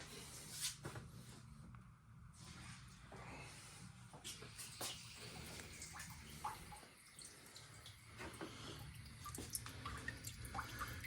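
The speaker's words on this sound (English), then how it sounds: "So let me turn the water on" Water splashes and trickles steadily into a container, with irregular drips and spatters over a continuous rushing flow.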